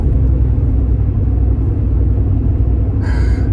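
A 2013 Honda Civic Si pulls in sixth gear at around 2,000 rpm, producing a steady, deep, close engine rumble that holds evenly throughout, with a brief higher whine near the end.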